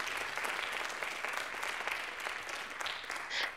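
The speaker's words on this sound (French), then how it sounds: "Un grand applaudissement à Nadine." A crowd claps steadily and enthusiastically throughout at a conference closing, a dense wash of applause from a large audience with no pause.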